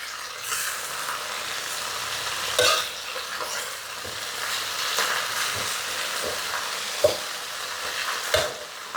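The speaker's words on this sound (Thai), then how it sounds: "ผัดผักคัน จอง ให้สลดค่ะ" Kan jong vegetables stir-fried in a pan with a steady sizzle throughout, broken by several sharp scraping clatters of the spatula against the pan.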